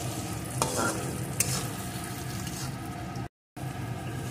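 Carrot, beans and potato stirred and frying in a pan, a steady close sizzle with scraping spoon strokes, briefly cut to silence near the end.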